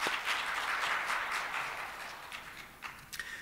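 A church congregation at a Wednesday evening service claps, a burst of scattered hands that starts strong and fades over a few seconds, leaving a few isolated claps near the end.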